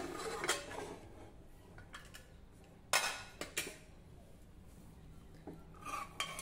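Metal clinks and clatters as a cooled pressure cooker holding cooked cowpea dal is opened in a home kitchen, with a few sharp knocks of lid and utensils against the pot between quieter moments.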